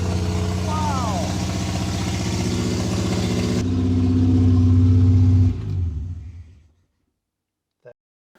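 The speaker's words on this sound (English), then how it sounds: "So considering that car had stood in a barn for over 20 years, I was quite surprised at how easily it started" A Skoda 105S, barn-stored for over 20 years, running and revving loudly with a steady mid-pitched drone that climbs, then cuts off and dies away into silence, followed by a brief click.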